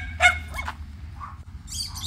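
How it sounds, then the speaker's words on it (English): Dogs bark outdoors in a few short, separate bursts, fairly close and alone, with faint background noise between the barks. "Say hi to the dogs."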